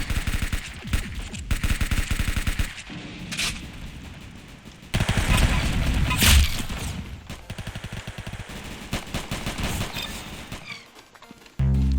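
Roblox gunfire, including Uzi shots, comes as rapid loud automatic bursts that stop and restart through the stretch, with a heavy flurry in the middle and a sharp close shot at the end.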